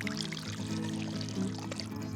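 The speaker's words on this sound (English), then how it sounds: "I will fill my bottle with water from my Brita." Water pours steadily from a Brita filter jug into a Sodastream bottle, a continuous close trickle with no voices.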